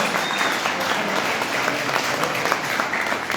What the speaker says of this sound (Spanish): Así que otro aplauso es para ustedes